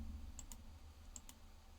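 Typing on a computer keyboard, two quick pairs of soft key clicks, close and quiet against a faint room hum.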